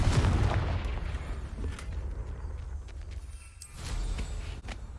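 A Confringo blasting spell cast in Hogwarts Legacy, opening with a loud low burst that decays into crackling, rumbling game noise, with a second flare of sound near the end.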